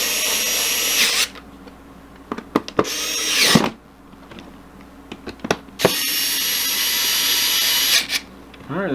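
Power screwdriver driving four screws into an Intel NUC barebone PC case, heard as two long whirring bursts at the start and end with shorter buzzes and clicks between, close and loud.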